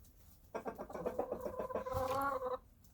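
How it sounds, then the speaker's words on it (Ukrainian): A rooster crows once in a long, rising and falling call, fairly close, with quiet background and no speech. "О, півник співає. Співає півник."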